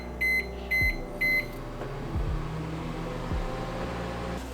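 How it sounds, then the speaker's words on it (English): Three short electronic beeps, then a steady low mechanical hum with a few soft clunks as the appliance runs. "Then I'm gonna microwave it for 2 minutes."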